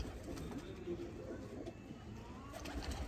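Low cooing of slate tiger pigeons, a breeder male and female kept in a home loft, soft and continuous under a steady background hiss, with no clear talk.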